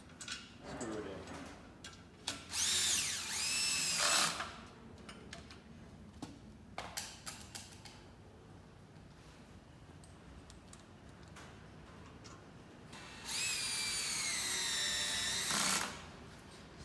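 A cordless power drill whirs in several bursts, some short and some a few seconds long, as screws are driven into pre-drilled holes to fix the post of a large display, close by, with quiet ticking between bursts.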